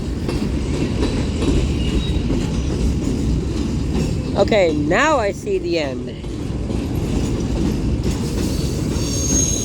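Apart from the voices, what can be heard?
Union Pacific freight train passing with cars rolling by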